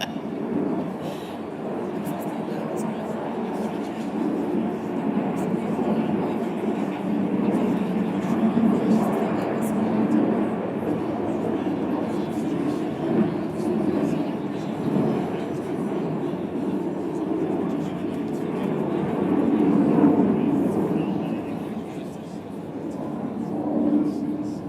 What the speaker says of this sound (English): I'm going to wait for the plane to stop.